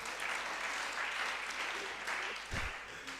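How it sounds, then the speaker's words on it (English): An audience at a secondary school debate competition applauds, a steady wash of clapping from many hands that sounds fairly distant and soft throughout. "Give me a round of applause for my Bible knowledge."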